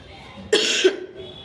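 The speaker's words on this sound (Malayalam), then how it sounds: "ഇങ്ങനെ ഇടയ്ക്കിടയ്ക്കിടയ്ക്ക് ചുമ വരുന്നുണ്ട് കേട്ടോ ഇങ്ങനെ" A single sharp dry cough bursts out, followed by a short second hack, loud and close against a quiet background.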